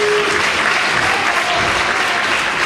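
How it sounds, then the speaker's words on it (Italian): Loud, sustained crowd applause fills the hall after a regional senior amateur boxing bout, a dense unbroken roar of clapping at constant level with a faint voice underneath. "Applausi per Kevin Masala"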